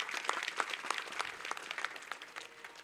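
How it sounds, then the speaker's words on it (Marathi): An audience claps at a kirtan held for Independence Day: steady, dense applause from a crowd throughout. "त्यांच्यासाठी सुद्धा एकदा जोरदार टाळ्या वाजवा"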